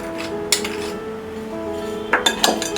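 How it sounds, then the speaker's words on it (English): Mango pickle with salt being stirred in a pot, a steady low hum under a few sharp metal clinks of a spoon against the pot rim, loud and close. "Stir it a bit."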